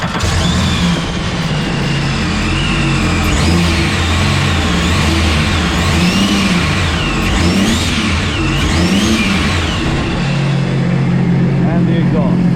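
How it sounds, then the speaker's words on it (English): Sea-Doo RXT 260 jet ski engine revs repeatedly up and down, each rise ending in the whooshing release of its blow-off valve, loud and close; a voice talks over part of it. "the best part is what the blow-off valve sounds like"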